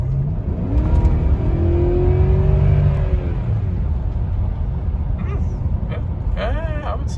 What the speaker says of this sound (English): So I'll go ahead and give it a kick down here once I get a little bit of free room.